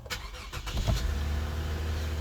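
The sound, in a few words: Lexus GS300 3.0 V6 engine push-button starting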